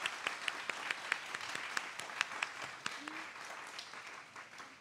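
Fairly faint applause from an audience at a women's football club's season launch event in Japan, sparse individual claps standing out over a soft wash of clapping that gradually thins.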